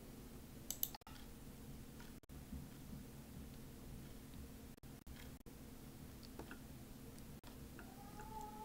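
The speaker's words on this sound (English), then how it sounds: "Keyboard and a mouse." Scattered computer keyboard and mouse clicks, quiet and irregular, tap away in a still room with faint background hiss.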